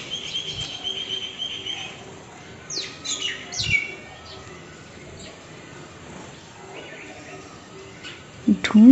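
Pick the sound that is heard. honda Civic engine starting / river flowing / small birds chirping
small birds chirping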